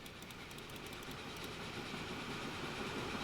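A train from the Transport Fever video game rolls along with a steady, fairly quiet rumble and faint clickety-clack, with light ticking on top throughout.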